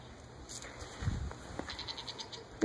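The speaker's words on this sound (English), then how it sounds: "Is that a goat?" A goat bleats outdoors on a cold day, giving a run of short, faint bleats at some distance over quiet background noise.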